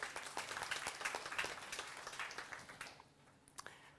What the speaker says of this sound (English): a round of applause for Andy, please